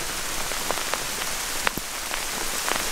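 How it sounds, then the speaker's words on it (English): Hail or heavy rain pelting down in a thunderstorm at an exposed campsite with no shelter, a steady dense hiss broken by scattered sharper hard impacts close by. "We've got, seems like hail coming down."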